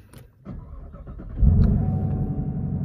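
A black 2020 Chevrolet Camaro with the LT1 V8, heard from inside: a brief starter whir, then the engine catches with a deep burst about halfway through and settles into a loud, rumbling idle.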